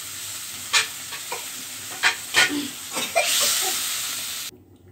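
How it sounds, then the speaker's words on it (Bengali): Potatoes frying in a pan with chilli and coriander powder, a steady sizzle punctuated by several sharp stirring scrapes, then a louder hissing surge before it cuts off abruptly. "আলুটা একটু কষে নি"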